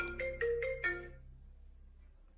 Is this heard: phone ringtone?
yes